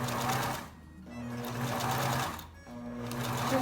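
A sewing machine stitches in short runs, its fast steady whir stopping briefly twice before starting up again, close and clear with no voices.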